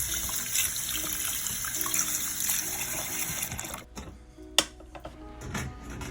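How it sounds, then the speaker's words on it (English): Tap water runs steadily over dishwasher filters being rinsed in a sink, a continuous close splashing that breaks off partway, leaving a few clunks and drips. "Now I'm going to just rinse all these filters and put it back on the top rag."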